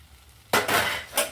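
Okra stirred in a hot pan for a tomato curry: two quick metallic scrapes of a spoon against the pan with a soft sizzle beneath, up close after a near-silent start.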